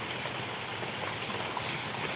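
Heavy rain pouring down during a downpour in Saurashtra, Gujarat, a dense and steady broadband rush that stays level and unbroken from start to finish.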